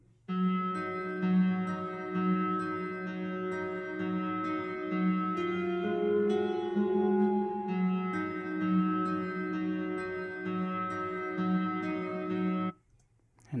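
Synthesizer arpeggio in a music production, a steady stream of bright repeating notes over a sustained pad, loud and continuous for most of the passage before cutting off briefly near the end.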